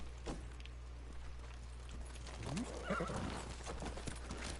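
A horse whinnies in the video game Ghost of Tsushima over a soft steady hum, with light hoof clops and faint movement sounds around it, all fairly quiet.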